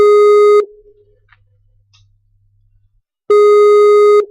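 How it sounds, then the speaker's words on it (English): Two long steady electronic tones of a Skype outgoing call ringing, each about half a second to a second, separated by a quiet gap of roughly three seconds, loud and clean with no voices. "We're ringing"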